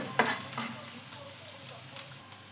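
Chopped onions sauté and sizzle in a pan, a steady soft frying hiss broken by a few stirring scrapes and clinks, close and alone without talk.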